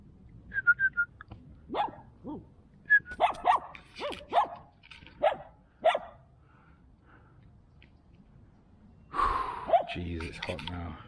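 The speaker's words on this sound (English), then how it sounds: "even the beast of a dog in the background doesn't seem that bothered about my presence" A large dog in the background gives several sharp barks and yelps, spaced unevenly and moderately loud, with a voice and some breathing heard nearby.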